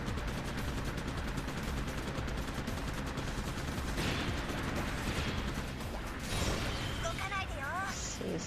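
Rapid gunfire from mobile suits in the Gundam Breaker 3 video game rattles in fast, dense bursts throughout, mixed with mechanical clanks and crashes in a busy battle soundscape.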